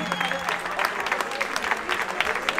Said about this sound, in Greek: θέλω ένα πολύ μεγάλο χειροκρότημα για τους κριτές μας, για τους εθελοντές που δώσαν το είναι του σήμερα